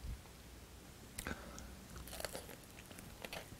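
Fried chicken being bitten and chewed, with a few soft crunchy bites and chewing noises scattered over about three seconds, close and fairly quiet with no talking.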